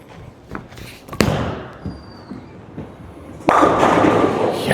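A bowling ball, a Motiv Venom Shock, is thrown with a sharp thud on release, then rumbles down the lane before a loud clattering crash of pins that rings on. The sound is alone, with no talking.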